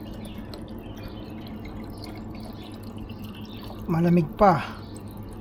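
Water pouring from a free roadside refill tap into a bottle during a mountain bike ride near Zekreet, a steady trickling fill heard alongside a voice, then a short louder gush near the end.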